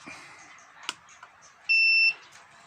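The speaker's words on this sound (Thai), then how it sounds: "ทำการเปิดนะครับ จะมีเสียงปี๊บแล้วพัดลมทำงานนะครับ" A homemade push-pull sine wave inverter powers on: a soft click, then a single steady electronic beep lasting about half a second, clear and close, over a faint background hum.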